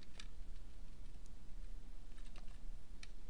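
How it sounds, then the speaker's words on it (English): Arrow keys on a computer keyboard are pressed one at a time, giving soft, irregular clicks under a steady background hiss, close and quiet with no talking. "Notice as I navigate through icons with the arrows on the keyboard."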